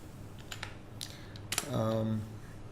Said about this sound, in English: I just select this markdown and I type here